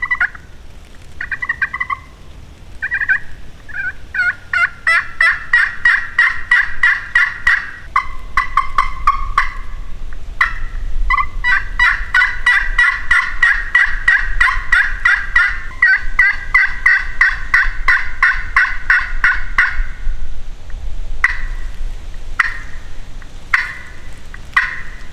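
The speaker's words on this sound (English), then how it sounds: "I usually just do like a yelp, long series of yelps over a bottom" Turkey pot call worked by hand in a long, loud series of sharp yelps, closely recorded in rapid runs with brief gaps, alone with no talking.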